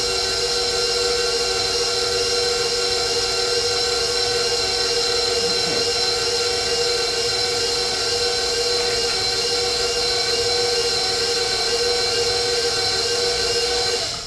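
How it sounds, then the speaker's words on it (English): An electric stand mixer runs steadily, mixing cinnamon roll dough for powdered-sugar-iced rolls; a continuous motor whine with a constant hum holds at even loudness throughout, with no talking. "Now let's go ahead and mix that just for a little bit."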